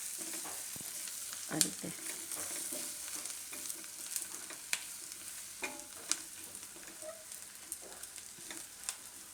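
Besan (gram flour) roasting in hot oil with onions in a pan for a Gujarati onion-papad curry, a low steady sizzle with occasional spoon taps and scrapes; a brief voice speaks.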